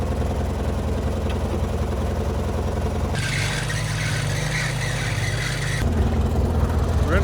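A Craftsman garden tractor fitted with ATV tires idles, giving a continuous engine drone that shifts in tone for a few seconds midway before settling back. No talking.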